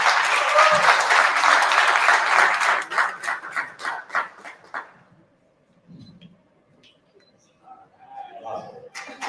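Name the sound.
audience applause at a Women's Day event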